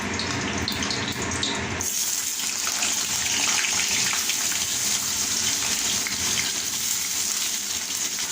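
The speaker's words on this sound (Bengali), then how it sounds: "এবার আমি এই তেলের মধ্যে আলুগুলোকে ভেজে নেব।" Small potato pieces fry in hot oil, a steady close hiss and bubbling sizzle that starts abruptly and holds evenly throughout.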